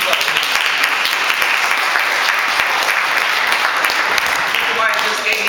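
A town hall meeting crowd gives a round of applause for a former judge and school board president, a steady wash of many hands clapping throughout, with a voice faintly underneath.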